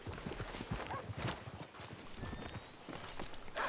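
Horse hooves clip-clop steadily in Red Dead Redemption 2, a continuous rhythmic patter of several horses close by on a town street, with faint background chatter and a brief whinny-like sound.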